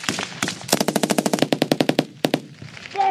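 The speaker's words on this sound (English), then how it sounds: "Prepare for rapid fire, 15 seconds." Rapid bursts of machine gun fire during a firefight between British forces and the Taliban, a fast loud string of close reports in a steady rhythm, broken by short pauses and scattered shots, no talk.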